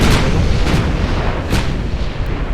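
Battleship main guns fire in the naval combat game Ultimate Admiral Dreadnoughts, set in a 1910 Japanese campaign. Heavy booms merge into a dense, continuous rumble of loud gunfire, with a few sharper reports standing out.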